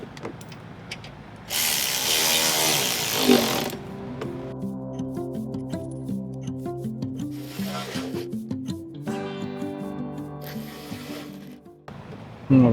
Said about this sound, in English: go ahead and tighten up these bolts right here